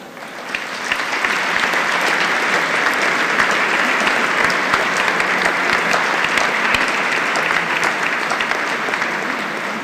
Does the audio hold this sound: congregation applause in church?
yes